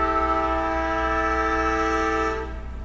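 A train horn sounds one long, steady, loud blast heard near, alone, cutting off near the end.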